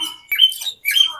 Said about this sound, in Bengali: বিভিন্ন পাখির ডাক